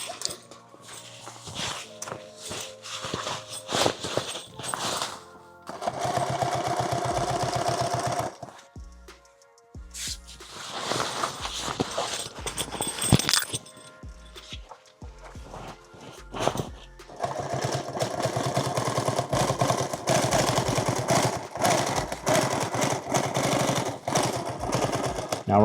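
Sewing machine stitching an XL tool bag, running in loud bursts of rapid mechanical chatter separated by short pauses and handling noises.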